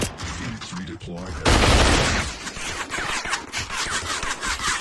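Gunfire in the VR battle royale game Population: One, a loud burst of rapid shots followed by more scattered firing and clatter, with game noise throughout.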